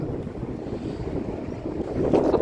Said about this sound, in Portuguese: Só tá um vento que, meu Deus do céu.